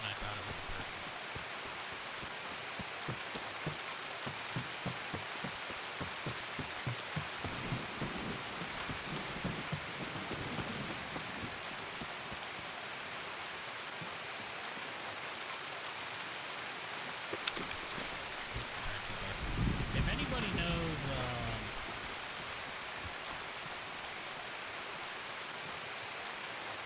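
Steady rain patters across the scene in the Escape From Tarkov game world, a continuous wash of drops with a low rumble of thunder swelling near the end, no voices present.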